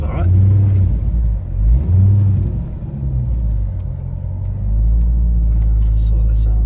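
Corvette C5 with an LS1 engine and manual gearbox rumbles loudly up close while driving, its revs rising and falling through two pulls, with people talking over the engine.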